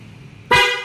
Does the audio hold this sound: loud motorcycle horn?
yes